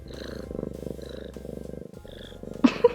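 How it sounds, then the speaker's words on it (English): A cat purrs close up with a rhythmic, rumbling pulse that continues steadily, ending with a couple of louder sharp sounds. "Shout out to anyone that has a needy cat on them right now."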